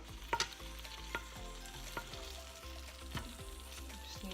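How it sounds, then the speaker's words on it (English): Chicken sizzling as it browns in an Instant Pot on sauté, a steady crackling hiss with a few sharper scraping clatters of a utensil stirring, close by. "I'm gonna start to hear it sizzle."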